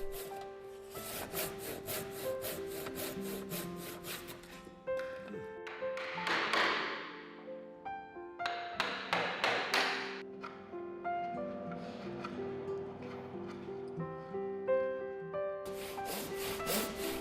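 A traditional master carpenter hand-saws a wooden bracket piece along marked lines, producing bursts of close, rhythmic rasping strokes broken by brief pauses and softer rubbing and tapping.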